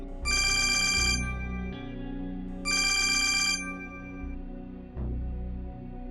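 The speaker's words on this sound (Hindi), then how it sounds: "उसी रिपोर्टर का फोन है" A phone ringtone plays in two bright electronic bursts, separated by a short pause, over a low sustained musical background.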